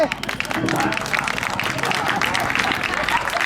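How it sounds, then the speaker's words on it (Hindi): An audience claps loudly and steadily at a Ram Navami stage performance, dense continuous applause close by with some crowd murmur and speech mixed in. "जोरदार ताली से।"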